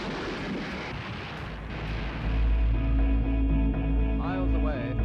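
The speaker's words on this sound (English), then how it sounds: "Miles away, a tremendous roar of the explosion accompanies the motion picture camera" A tremendous explosion roar from archive film footage, a loud low rumble that swells and holds, with faint chirping tones near the end.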